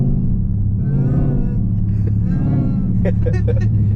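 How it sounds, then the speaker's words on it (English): A Dodge Hellcat rumbles deep and loud as heard from inside the car, with the engine tone rising briefly when given gas. Voices talk over the engine. "You gotta give it gas every now and then so you can hear it."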